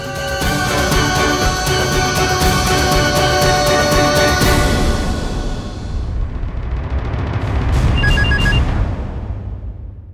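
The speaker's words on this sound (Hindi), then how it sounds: "देव, कंचन के ससुराल वालों को फोन लगा, मैं बात करता हूं।" A telephone bell rings loudly and steadily for several seconds while a call is placed to relatives in a Hindi TV drama, then fades into a dramatic musical sting with no talk over it.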